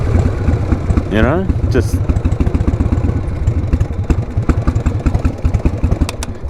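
A 1988 Harley-Davidson Heritage Softail with a sidecar runs with a steady, lumpy low thump close by, its rhythmic pulses continuing throughout while someone talks briefly over it.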